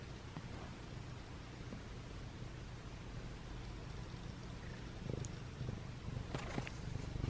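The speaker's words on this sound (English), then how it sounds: "Do you hear Simba purring?" A soft, steady purr from a feral cat being socialized rumbles continuously close by, with faint rustling near the end.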